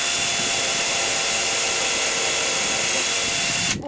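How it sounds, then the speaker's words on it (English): A power drill bores through a silver metal spoon, giving a steady, loud high-pitched whine that holds evenly for several seconds and cuts off abruptly near the end. "start with a smaller size drill bit first and then work your way up, especially when you're drilling metal"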